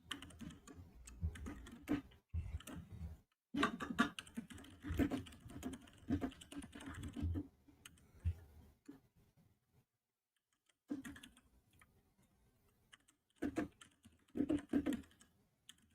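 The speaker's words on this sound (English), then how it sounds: "Who is typing what, bro? I'm typing." Typing on a computer keyboard goes on in quick bursts of clattering keystrokes, broken up by short pauses and one longer silence, fairly close but quiet overall, with no talking.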